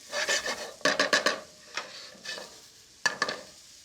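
Jalapeño popper mushroom stuffing stirred in a hot pan gives short bursts of scraping and rustling over a faint sizzle, close and without talk.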